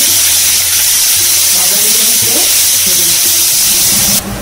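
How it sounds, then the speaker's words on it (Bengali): Chopped onion and nigella seeds sizzling in hot oil in a pan, a loud, steady hiss that continues throughout and cuts off abruptly near the end, with faint tonal background sound underneath and no clear talk. "এবার তেলের মধ্যে কালো জিরে ফোড়ন দিয়ে পেঁয়াজ কুচিটা দিয়ে দেবো"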